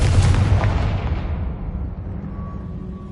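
Confringo fire spell explosion from Hogwarts Legacy: a loud, sustained blast with a booming low rumble that slowly fades over a few seconds, heard alone.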